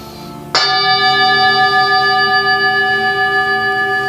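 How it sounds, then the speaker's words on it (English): A single bowl-like meditation bell is struck once, ringing out clear and loud, then sustaining with a long shimmering decay in quiet surroundings. "I'm going to invite the bell"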